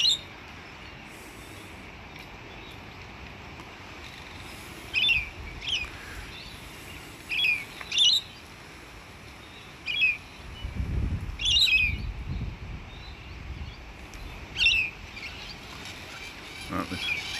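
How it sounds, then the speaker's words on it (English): A bird on a lake gives short, sharp chirping calls while feeding, repeated several times at irregular intervals, fairly near, over quiet outdoor ambience. "Don't want to disturb that bird feeding either."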